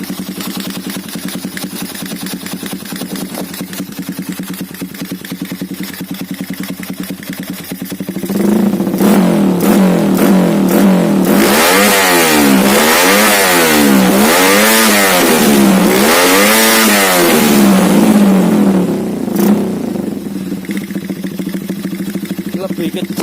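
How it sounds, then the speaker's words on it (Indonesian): Motorcycle engine tuned with a KLX BRT programmable CDI, idling roughly up close before being revved hard in repeated rising and falling bursts, then settling back to a rough idle. "suara mesin lebih kasar"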